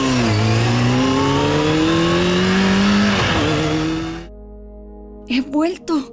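A motorcycle engine revs loudly with a rising, droning whine that climbs in pitch before cutting off abruptly, followed by a few brief voice bursts.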